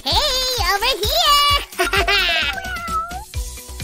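Kittens meow loudly and close by, several high, drawn-out cries overlapping and rising and falling in quick succession.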